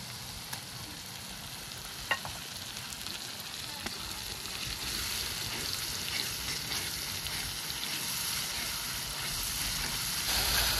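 Coriander and cumin paste frying with chicken legs in a pan gives a steady, close, dense sizzle with an even hiss, a few sharp pops and clinks, and no voices.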